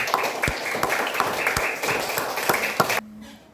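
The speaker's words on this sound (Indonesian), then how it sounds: "kita tepuk tangan dulu buat teman kita kelompok 3 yang sudah tampil." Classroom students clap for a student group that has just performed, a steady patter of hands with some sharper claps standing out, ending abruptly into near silence with a faint tone.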